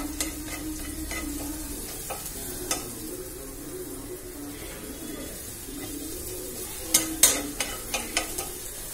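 Garlic paste frying in a pan with a soft continuous sizzle, then a cluster of sharp scraping taps from stirring near the end, quiet and close, with no talk.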